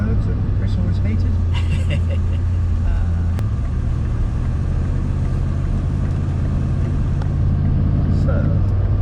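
A twin-turbo 4.6 V8 Range Rover P38 accelerates gently along a smooth lane, heard from inside as a steady, loud low engine drone and road rumble that holds throughout with a slight rise near the end.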